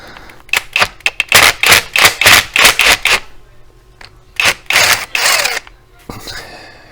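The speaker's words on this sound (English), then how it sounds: "I'm going to try the rattle gun on it." Rattle gun hammering on a stuck tappet cover bolt of a KTM engine: loud, close bursts of rapid impacts in two runs separated by a short pause, with no talking.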